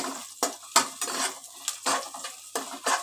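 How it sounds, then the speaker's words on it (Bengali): Onions frying in a pan while being stirred, with sharp, repeated scrapes and clinks of a utensil against the metal in an irregular rhythm, close up and with no talking. "আর একটু ভেজে নিই পেঁয়াজটাকে।"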